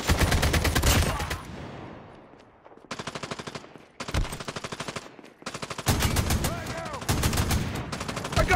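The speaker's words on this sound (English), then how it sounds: "I got shot." Close, loud Call of Duty automatic gunfire in rapid bursts separated by short pauses, with dense rattling shots throughout.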